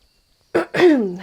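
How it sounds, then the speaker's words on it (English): A close throat clearing: a short rough burst followed by a longer, voiced rasping hem that fades out, with silence beforehand. "clearing my throat all the time"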